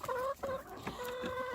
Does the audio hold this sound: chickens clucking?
yes